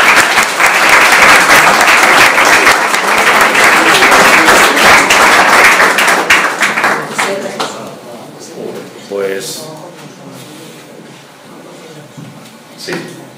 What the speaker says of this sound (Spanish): Yo creo que un aplauso es lo que se merece